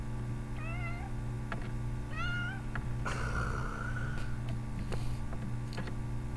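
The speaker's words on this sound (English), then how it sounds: "it's my sister's cat bothering me." A house cat meows several times in short rising calls against a steady low hum of computer equipment, with a few small clicks and a brief rustle near the middle.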